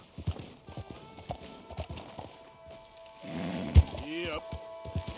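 Horse hooves clip-clop at a walking pace in the Red Dead Redemption 2 video game, with irregular thuds, a brief whinny near the end, and quiet game ambience underneath.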